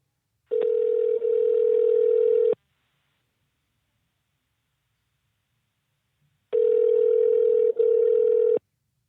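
A telephone call connecting for a podcast produces a loud, clean, steady line tone in two separate two-second bursts, with silence between them.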